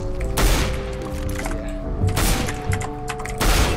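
Gunfire in the CS:GO video game during a trick shot, three sharp loud shots with booming tails spaced roughly a second and a half apart, no talk.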